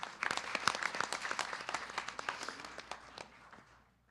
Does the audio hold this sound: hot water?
no